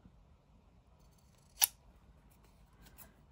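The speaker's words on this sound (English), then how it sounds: "I'm going to trim the border off" Scissors trim the border off a paper tag in a quiet crafting setting: one sharp crisp snip stands out, followed by a couple of fainter cuts and light handling.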